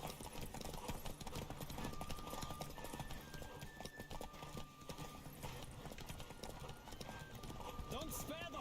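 Horse galloping in The Witcher 3, a rapid, continuous clip-clop of hooves running throughout, with a brief whinny near the end and voices talking over the game sounds.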